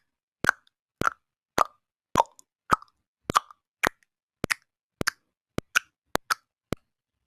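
Tongue clicks making an a cappella beat, twelve sharp dry pops spaced about half a second apart in a steady rhythm, close and alone with silence between them.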